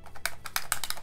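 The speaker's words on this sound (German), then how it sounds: "weil das, was ihr hört, ist ein Plektrum." A guitar pick rattles and clicks inside a sealed, still-wrapped cassette tape case as it is shaken, giving a quick series of sharp, close plastic ticks in an irregular rhythm with no talk.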